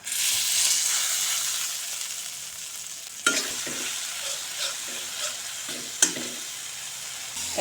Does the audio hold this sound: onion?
yes